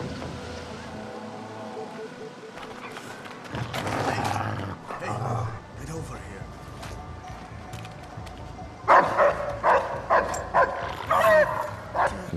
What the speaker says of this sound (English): dogs are indeed back, and they can be pretty tough to deal with